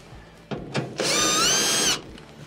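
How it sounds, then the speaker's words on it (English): Power drill backing out the screws on the blower housing of a Whirlpool dryer, a brief whir after a couple of small clicks, then one steady loud run of about a second, close by. "remove the screws for that."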